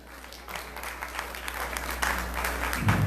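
An audience applauds steadily for a singer at a Peruvian Ayacucho song performance, a soft wash of many hands clapping that grows slightly louder toward the end.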